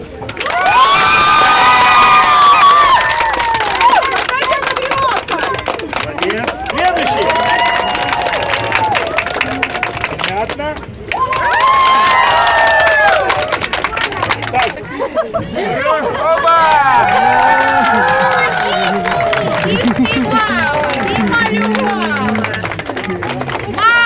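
Children at a military-themed charity event for kids in Kramatorsk shout, cheer and clap loudly and continuously as a crowd during a contest, with voices rising and falling over the din.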